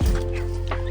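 Chickens and turkeys cluck briefly inside a chicken tractor during morning chores, the birds close by over a steady low background hum.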